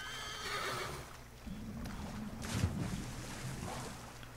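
A horse in the video game Assassin's Creed 3 neighs with a rising, shrill whinny early on, followed by splashing through water and shuffling movement, fairly quiet with no talking.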